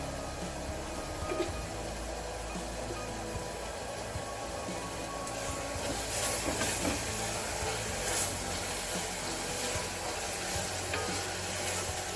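Mutton and fenugreek leaves frying in a pan while being stirred, giving a steady, close sizzle and hiss with occasional scraping stir sounds throughout, no voices.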